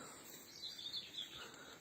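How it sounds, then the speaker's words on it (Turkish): Faint, high chirping birdsong in the distance, a few brief calls over a soft outdoor hiss. "Kuş sesleri sabahın"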